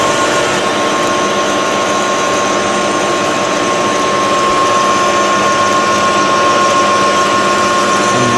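A workshop machine tool cuts metal at 400 RPM, giving a loud, continuous mechanical drone with a faint steady whine throughout and no talk.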